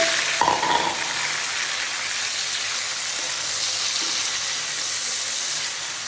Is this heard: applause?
no